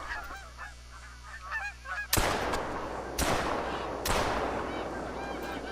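Three loud shotgun blasts fired at snow geese during a hunt, each with a long ringing tail, following a stretch of honking geese close by.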